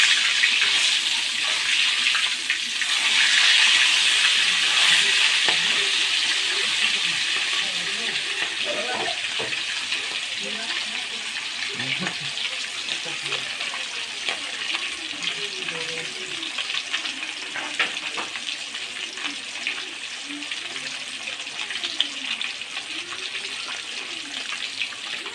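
Rohu fish frying in a pan for a Bangladeshi-style rohu curry with bottle gourd, a steady broadband sizzle holding throughout with faint clinks and stirring noises, no talking.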